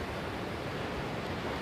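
Strong wind blows steadily beside a river, a continuous broadband roar with no breaks, close and fairly loud throughout, no voices.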